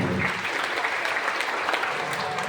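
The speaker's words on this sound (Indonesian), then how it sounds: "Tepuk tangan dulu yang paling meriah" A church congregation at a Sunday sermon breaks into brisk, hearty applause, a dense wash of clapping that stays steady and fairly close for a couple of seconds.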